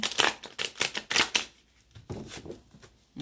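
Tarot cards being shuffled by hand: a quick run of crisp riffling, flapping bursts close up for about a second and a half, a pause, then a few softer card taps, no speech.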